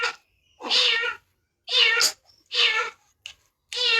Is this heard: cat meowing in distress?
yes